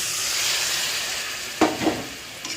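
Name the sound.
water poured into sizzling spiced curry masala in a wok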